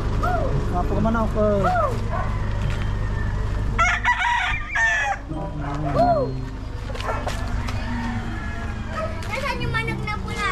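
A fighting rooster crows repeatedly in a yard, loud and close, with several drawn-out cock-a-doodle-doo calls, while people talk in the background and mechanical rattling sounds throughout.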